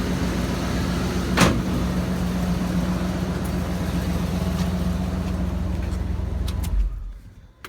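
A 1996 Ford F-350 with a 460 engine idles in a steady low rumble, a sharp knock sounds early on, then the engine shuts off and its sound fades quickly to near silence.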